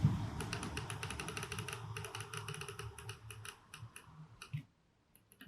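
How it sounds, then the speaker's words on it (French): Side buttons of a Cooler Master MM710 lightweight mouse are pressed repeatedly, a quick run of small sharp clicks in irregular rhythm, close and quiet over faint background noise, ending in near silence. "on va commencer par les clics latéraux"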